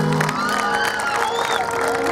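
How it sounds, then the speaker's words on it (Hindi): A wedding crowd claps and cheers at once, loud and dense, with whoops and children's shouts mixed into the applause. "उन दोनों को एक बार जोरदार ताली बजा के सब लोग बधाई देंगे"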